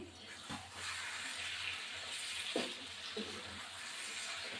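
Chicken liver and neck are sautéed steadily in a pan, a moderate, even sizzle with a few soft stirring scrapes, no talking.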